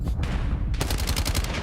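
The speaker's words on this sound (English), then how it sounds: "the gunshots and stuff are so quiet" Rapid automatic gunfire from a Call of Duty match at a League Major I Qualifiers event, with a burst at the start and then a fast, steady rattle of repeated shots through the rest.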